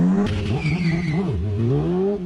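A locked rear motorcycle tire skids and squeals loudly up close during a drift, a wavering rubbery screech over engine noise that bends in pitch and fades out after about two seconds, with no talk.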